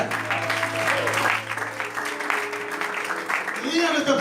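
Church congregation clapping in praise during a French-language sermon, a steady roomful of applause with a voice calling out over it, continuing throughout.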